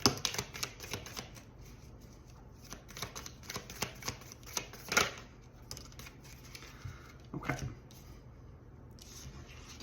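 Tarot cards shuffled and drawn by hand, a soft, close run of riffling and papery flicks that thins into scattered slides and taps, fairly quiet with no talking.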